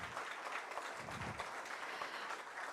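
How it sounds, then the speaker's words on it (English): Audience clapping fills a hall at a PGDM induction ceremony, a steady dense wash of applause lasting throughout without pause. "Don't stop clapping. Let this be a noisy, filled hall the whole day round."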